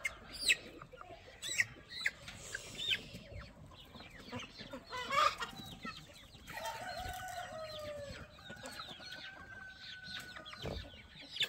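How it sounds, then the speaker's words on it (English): Chickens and small chicks on a homestead cluck and chirp in a busy, scattered chorus, with a few sharper calls standing out, fairly close and steady throughout. "Smallest chicken in the world right here."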